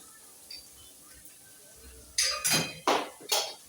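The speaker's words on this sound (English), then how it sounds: "the spoon has fallen down" A metal spoon falls while cooking a French bean stew, striking the pot and counter in four quick, sharp clattering hits near the mic after a quiet stretch, with a faint voice nearby.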